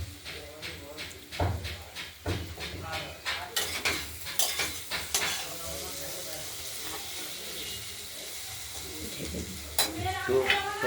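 Broad beans tossed in oil in a wok with mustard and green chilli, making soft sizzling under repeated sharp scrapes and clinks of a spatula against the pan, close and uneven.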